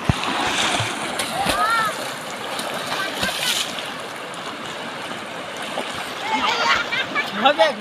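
River water splashes and sloshes steadily as people bathe in a cold, clear river flowing down from Bhutan, with scattered louder splashes near the end, heard under ongoing talk.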